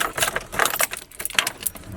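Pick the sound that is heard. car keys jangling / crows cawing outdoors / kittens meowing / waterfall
car keys jangling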